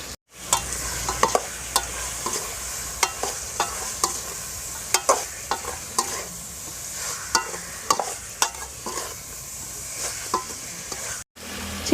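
Chicken sautéing in a village-style pan for chicken gravy, a continuous soft sizzle under a regular series of clicking spatula stirs and scrapes, with no voices.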